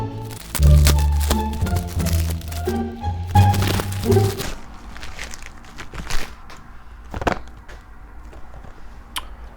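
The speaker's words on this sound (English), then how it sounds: "so let's open up the next one." A Parfums de Marly perfume box being opened, close cardboard cracks, thunks and crinkling handling noises, loud at first and then scattered with sharper snaps later.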